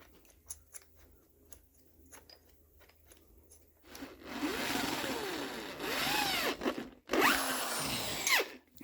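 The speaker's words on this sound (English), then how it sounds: "This drill is not good." A power drill whirs loudly in a sustained burst, enlarging holes to about 10 millimeters in a workshop stool, pausing briefly then starting again, after a few seconds of quiet tapping and handling.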